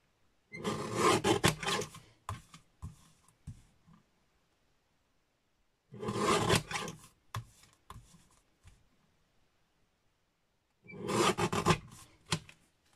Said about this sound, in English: I'm just going to trim it down a little bit further.